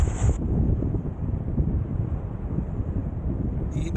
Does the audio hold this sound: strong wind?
yes